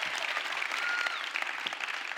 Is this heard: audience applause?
yes